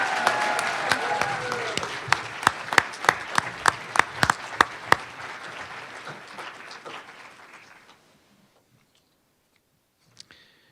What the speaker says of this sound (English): Big round of applause for Nicole